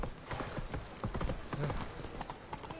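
Geralt's horse Roach galloping in Witcher 3, a fast, steady clip-clop of hooves at moderate distance, continuous and fairly quiet.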